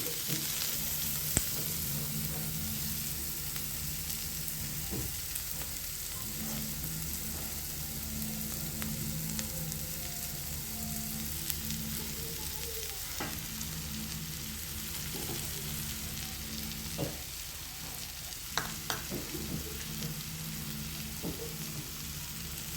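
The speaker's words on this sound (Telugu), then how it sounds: "ఆనియన్స్, క్యాప్సికమ్, ఇవన్నీ కూడా హై ఫ్లేమ్లోనే ఫ్రై చేసుకోవాలండి." Onions and capsicum fry on high flame in a pan for street-style egg fried rice, a steady close sizzle with occasional stirring scrapes and clatters running through.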